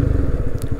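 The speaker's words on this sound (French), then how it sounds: "petit test de freinage" A motorcycle during a braking test: loud, close, low engine rumble with a rough pulsing throb and a brief scrape near the end, with no speech.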